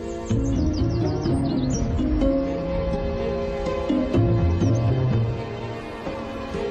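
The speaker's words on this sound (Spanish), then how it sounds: "se llama pitotoy de patas amarillas" A yellowlegs, a wader lost on St. Mary's in the Isles of Scilly, gives a few faint, high calls early on over a steady bed of music.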